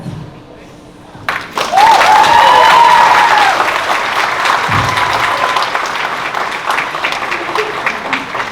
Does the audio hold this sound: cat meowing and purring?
no